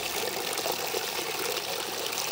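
Water hand-drawn at a village tubewell is poured out, a steady close splashing and trickling stream running without pause.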